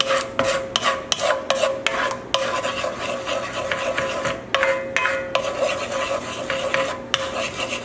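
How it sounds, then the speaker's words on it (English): Ingredients for a mustard cream steak dish are mixed in a bowl, close rasping and scraping strokes with sharp, regular clicks at the start, then a continuous rubbing swirl, with no talking. "Mix it together."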